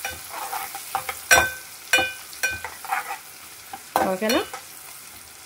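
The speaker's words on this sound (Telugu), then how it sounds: "ఓకే, ఒకసారి కలిపేసేసుకుందాము. కొంచెం వేగనిద్దామండి ఇవి." Curry leaves with their stalks fry in a pan for a tamarind eggplant gravy, with sharp intermittent scrapes and clatters from stirring over a light sizzle, close by, and a brief spoken word partway through.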